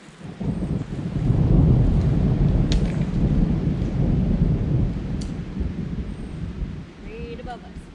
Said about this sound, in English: Getting lots of thunder right now.